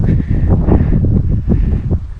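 Steady broadband wind rumble buffeting the microphone, with gusty swells throughout and no clear speech.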